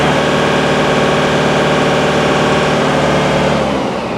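A Yanmar 348a tractor engine runs steadily at high rpm, a loud, continuous drone with a constant pitch that holds for several seconds with no talking.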